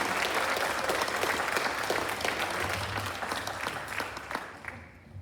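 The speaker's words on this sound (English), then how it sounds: "Let's give our students one more big round of applause." Audience applause for students at a school district board meeting, a dense, steady round of clapping from a roomful of people that holds strong before tapering off toward the end.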